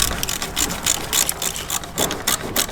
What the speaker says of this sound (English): 10mm bolt goes in up top,